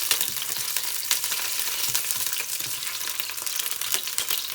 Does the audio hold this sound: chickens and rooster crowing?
no